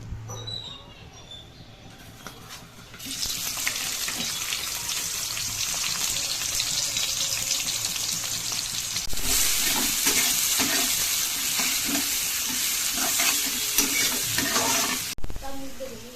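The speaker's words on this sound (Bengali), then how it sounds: "এবার আমি তেলের মধ্যে দিয়ে দেব কেটে রাখা পেঁয়াজ, কাঁচা লঙ্কা, রসুন" Chopped onion, green chili and garlic dropped into hot oil, starting quietly then bursting into a loud, sustained sizzle with stirring scrapes, swelling again midway before cutting off near the end.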